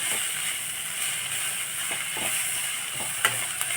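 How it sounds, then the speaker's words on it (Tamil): Corn, capsicum and tomato fry in a pan with chilli powder, giving a steady, close, hissing sizzle and a few brief knocks from stirring, with no one speaking. "ரெண்டு மூணு நிமிஷத்துலேயே நல்லா ஃப்ரை ஆகிடும்"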